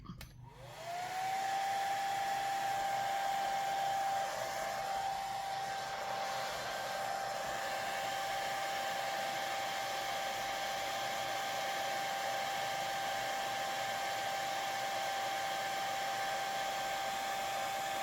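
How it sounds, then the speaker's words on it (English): A hair dryer runs steadily at close range, blowing onto ink as it dries. After a short rise in pitch at switch-on, it settles into a loud, even whine with a constant airy rush that holds for the whole stretch, with no talking. "Now I'm going to use the hair dryer and see what this does."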